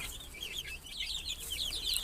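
Soft, high peeping of many chicks, about a month and a half old, chirping continuously at low volume, with faint background hum.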